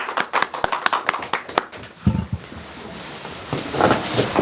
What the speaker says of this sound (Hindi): संजय जी के लिए एक बार तालियां चाहूंगा मैं।